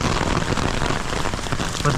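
Heavy rain pours down steadily in Samut Sakhon, Thailand, a dense close hiss of drops pattering on surfaces with no pauses.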